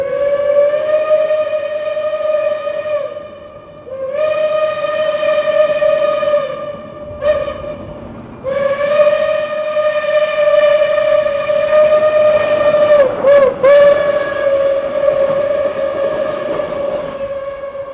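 Reading 2102 steam locomotive passes near and loud, sounding its deep chime whistle in long blasts with a brief short toot between them. A final extended blast wavers and breaks before continuing over rumbling train noise.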